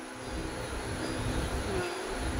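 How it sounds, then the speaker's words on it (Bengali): A train just pulled out of Howrah station, heard from inside as a steady, continuous broadband rumble and rush with no distinct clacks. "সবে ট্রেন ছেড়েছে হাওড়া থেকে।"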